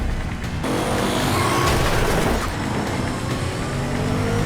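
A motorcycle speeds hard down a road, its engine roaring loud and close with a steady high rev and a brief surge as it races past, no voices.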